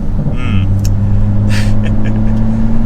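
A BMW M2 with a six-speed manual pulls along the road, its engine a steady, loud, low droning hum inside the cabin, with brief higher bursts of noise over it.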